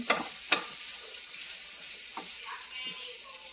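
Fried pork shoulder and bell pepper stirred in a hot pan, a steady sizzle with two sharp spatula scrapes near the start and softer strokes later, no talking.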